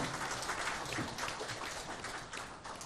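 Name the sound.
church congregation applause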